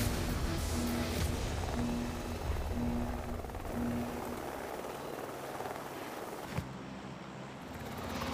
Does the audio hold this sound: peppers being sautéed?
no